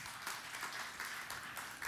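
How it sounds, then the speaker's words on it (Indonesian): A church congregation claps in steady, dense applause for Jesus, faint and continuous throughout the short moment. "Tepuk tangan yang meriah bagi Tuhan Yesus"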